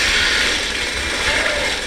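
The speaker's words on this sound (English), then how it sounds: "Machine gun fire for the win!" Rapid, dense machine gun fire in the StarCraft 2 video game, a continuous loud rattling clatter with no pauses for about two seconds.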